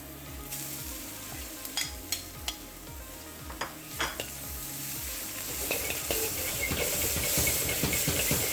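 Ginger frying in a hot pan with steady, close sizzling and hissing, while a utensil stirs and taps against the pan in a string of sharp clicks, the sizzle swelling louder toward the end.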